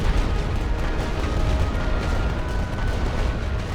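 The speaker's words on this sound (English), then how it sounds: "Let's get some barrages down" A First World War artillery barrage in the strategy game Great War Western Front rumbles continuously, a dense, loud wash of overlapping booms and distant gunfire with no clear gaps.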